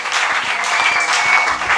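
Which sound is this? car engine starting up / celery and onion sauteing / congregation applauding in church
congregation applauding in church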